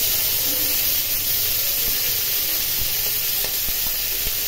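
Prawns sizzle in hot oil in a pan, a steady loud frying hiss that runs throughout, with occasional faint stirring knocks underneath.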